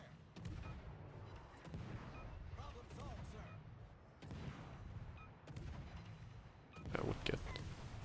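Repeated booming shots in a shooting video game, faint and spaced out over several seconds, with a player talking throughout.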